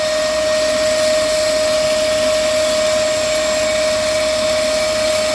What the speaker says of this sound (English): if you're using an hoover on your pond